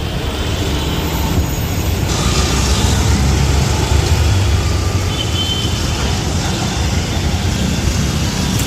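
A GSRTC bus pulls out of the Rajkot bus stand's exit gate under repair, heading toward the Morbi depot, with a loud, close, continuous engine roar and broad road noise throughout.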